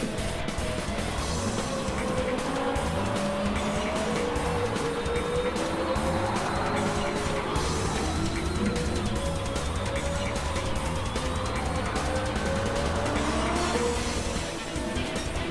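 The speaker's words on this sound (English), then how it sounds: "you just hear its engine just screeching in the distance" A Ferrari F430 race car engine screams at high revs during a race with a rising and falling whine, continuous and loud throughout, with tire noise underneath.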